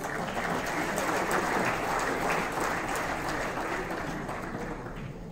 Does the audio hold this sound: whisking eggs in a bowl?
no